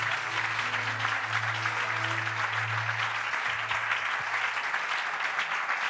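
A congregation at a church seminar applauds continuously, a dense steady wash of clapping filling the room at even loudness throughout, with a low sustained tone beneath and no speech.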